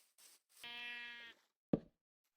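A sheep in a hardcore survival video game gives one clear, close bleat, followed by a brief thud and a short quiet pause.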